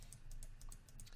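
Quiet, rapid computer clicks come from a mouse being clicked and dragged while brushing grass into a meadow scene in Maya 2017, a short, faint run of close taps with no talk.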